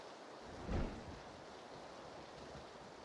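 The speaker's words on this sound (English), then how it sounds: "Thunder and lightning." Faint thunder from a PUBG match gives one soft rumbling crack near the start and then fades into a quiet wash of rain and wind, heard distantly without talk.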